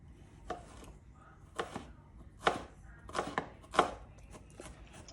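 A knife dices food on a board for an outdoor barbecue meal, a series of sharp, close chops in uneven bursts with gaps between them; no voices.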